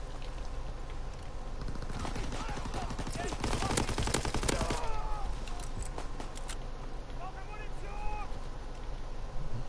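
StG assault rifle firing on rapid fire in Call of Duty WW2, a fast burst of gunshots that peaks mid-way and then tapers into scattered shots, with game sounds behind.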